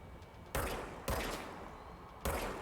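Three separate loud gunshots spaced about half a second to a second apart, fired in the Control video game, each with a sharp crack and a short decaying tail over a quiet background.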